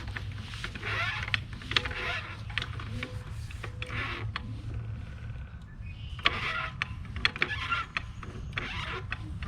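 Hydraulic pump on a log splitter being worked after oil was added, a continuous low mechanical hum with repeated clicks and whirring bursts, fairly close and steady throughout with no talking.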